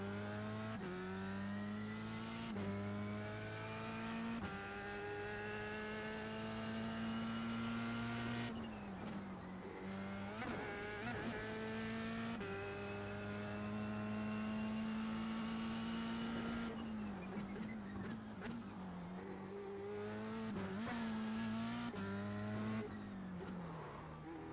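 A race car engine during a lap in a racing video game, droning steadily and climbing in pitch through the gears, with repeated shifts, lifts and re-accelerations over 24 seconds, faint and alone without talk.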